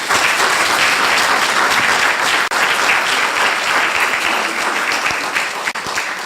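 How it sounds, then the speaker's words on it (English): A community action forum audience gives a full, sustained round of applause, dense even clapping filling the room without a break for several seconds. "So give yourself a nice round of applause, please."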